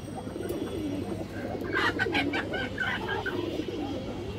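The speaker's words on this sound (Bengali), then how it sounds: "দর্শক এই দেখেন একটা নর কবুতরটা, লেজ বাজু কালো দর্শক কবুতরের।" A male pigeon with black tail and wings coos nearby, a short run of soft rhythmic throaty calls over a low background hum, with no talking.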